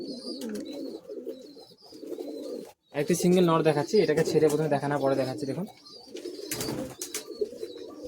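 Madrasi pigeons coo in low, throaty phrases at the start and end, with someone talking loudly over the middle stretch.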